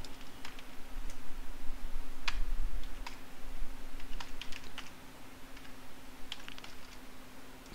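Typing on a computer keyboard while building an HTML form, irregular clusters of light key clicks over a steady hum, close and moderately loud with no talking.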